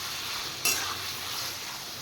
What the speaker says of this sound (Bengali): আর এদিকে মাশরুম ফ্রাই করছি